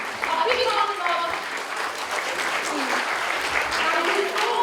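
Audience applause at a national moot court competition valedictory ceremony, a dense steady wash of clapping from a crowd with some voices mixed in throughout.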